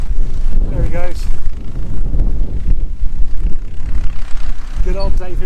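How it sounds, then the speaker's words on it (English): A David Brown tractor's low engine rumble rolls past on a country walk under heavy wind buffeting on the microphone, with a voice speaking briefly at the start and end. "Good old David Brown tractor."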